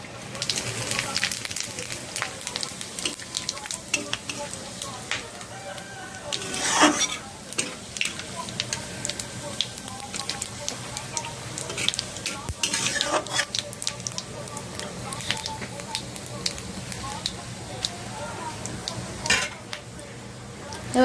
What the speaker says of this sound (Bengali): এবার আমি গোটা গরম মশলা ফোড়ন দেবো।